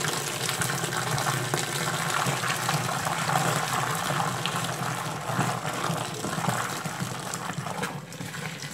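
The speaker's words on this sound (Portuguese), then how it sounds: "Vou botar a água agora, gente, que já começou a engrossar." About seven litres of warm water is poured into a bucket in a steady, continuous gush, with a hollow, filling rush that holds throughout and has no talk over it.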